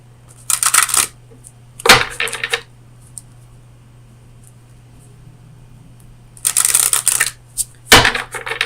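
Oracle cards shuffled and riffled from a deck in two loud bursts, each a rapid flurry of papery flicks followed by a sharp snap, with a quiet pause between them and a steady low hum underneath.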